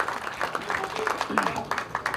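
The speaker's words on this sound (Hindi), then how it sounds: "जोरदार तालियां चाहिए मुकेश" Applause from an audience at a grand film teaser launch event, a short burst of scattered claps that is fairly faint and mixed with crowd noise.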